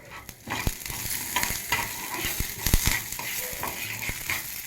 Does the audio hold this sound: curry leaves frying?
yes